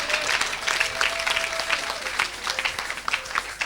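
An audience at a French-language worship service applauds and cheers for several seconds, steady dense clapping with scattered calls rising above it, moderately loud and close.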